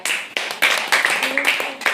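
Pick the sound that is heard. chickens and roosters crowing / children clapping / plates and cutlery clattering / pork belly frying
children clapping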